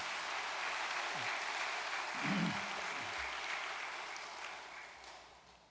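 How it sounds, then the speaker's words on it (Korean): Applause of thanks rises from a church gathering, a steady hiss of many hands clapping at moderate distance, fading slowly toward the end while a faint low voice murmurs beneath. "참 부모님을 위해서 다시 한번 감사의 박수를 보내올리겠습니다."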